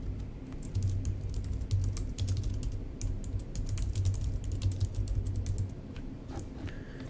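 Rapid clicking of keys on a computer keyboard, quick uneven bursts of typing over a low steady background hum.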